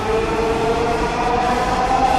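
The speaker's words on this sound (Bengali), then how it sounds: "আমাদেরকে নামিয়ে দিয়ে ট্রেনটা চলে যাচ্ছে" A Dhaka metro train pulls away from Agargaon station, a loud, close rumble with a steady rising electric whine and no pauses.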